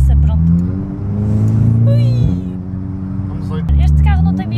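A Volkswagen Golf V GTI tuned beyond 300 hp revs hard and climbs through the gears, its engine loud and close from inside the car, with a brief dip at each shift and a voice cutting in over it.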